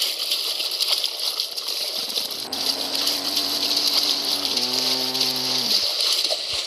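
Rushing water floods the sinking ship in the Roblox Titanic video game, a steady loud gush and slosh that continues throughout, with tonal game sounds joining in the second half.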